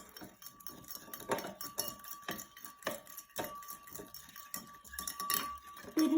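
Metal spoon clinking and scraping against a cup while stirring a coloured foam mixture in a children's rainbow foam experiment, a quiet, irregular series of light taps and clinks.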